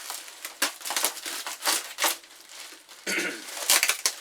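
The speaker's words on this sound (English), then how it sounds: "And I'm going to cut this up the center" Packaging around a Cobra 2000 GTL CB radio is cut open and pulled apart, giving a series of close, sharp crinkling and tearing bursts in irregular rhythm.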